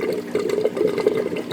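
Water rushes and gurgles through a 1.25-inch PVC overflow weir running at its limit, with about 655 gallons per hour pumped, a steady churning flow with bubbling surges.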